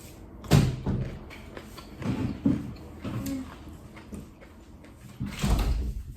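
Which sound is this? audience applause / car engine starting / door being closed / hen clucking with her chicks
door being closed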